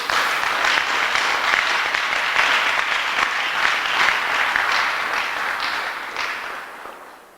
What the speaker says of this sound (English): Let's give the sponsoring year groups a round of applause.